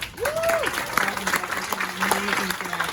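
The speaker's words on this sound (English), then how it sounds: "How about another round of applause for" A seated audience at a golf speakers' event claps in a brief round of applause, with a voice speaking over the clapping and a short whistle-like tone rising above it.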